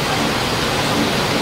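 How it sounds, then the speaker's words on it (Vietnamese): Heavy rain pours during a funeral outside a pagoda gate, a dense, loud, steady hiss of downpour with no letup and no one speaking. "Bữa nay thì trời mưa rất mưa luôn nha nhỉ,"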